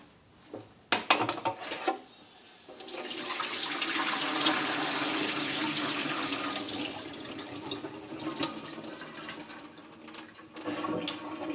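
Rinse water being poured out of a pot of beans into a sink, a few clanks of the pot, then a sustained splashing gush that tapers off, followed by more metallic knocks.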